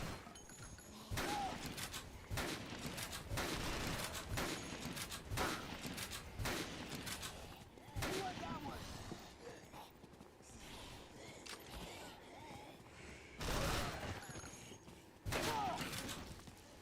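Repeated shotgun blasts in a video game, several loud sharp bursts spaced irregularly over a busy background of thuds and movement, with no talk.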